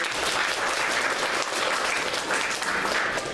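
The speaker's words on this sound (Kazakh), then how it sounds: "тағы бір қол шапалақтап" Students in a school chemistry classroom applaud after a song sung in English during a quiz event, a dense, loud, even burst of clapping filling the whole stretch with no talk.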